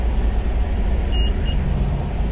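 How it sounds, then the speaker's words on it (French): Mercedes G-Class with a factory Brabus exhaust, valves shut, giving a steady low engine rumble that stays even and fairly quiet throughout, with a faint brief beep partway through. "Il y a un échappement Brabus d'origine, donc avec encore un radar hein, d'ailleurs, avec des clapets."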